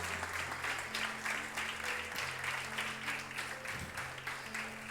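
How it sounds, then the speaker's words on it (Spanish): Congregation applauding at a church sermon, a steady dense wash of clapping from many hands that carries through the whole stretch, with a low hum beneath it. "Un aplauso, por favor."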